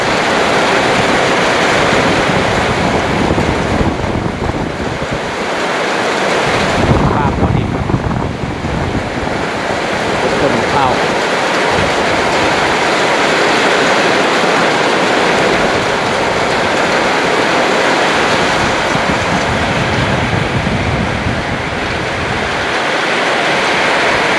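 A rural evening rainstorm with strong wind roars steadily and loudly for over twenty seconds, with gusts buffeting the microphone and heavy rain rushing throughout.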